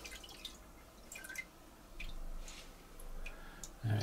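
Wash liquid dripping off a 3D resin print build plate makes faint, sparse drips and small ticks over a low background hum, ending in a louder clunk.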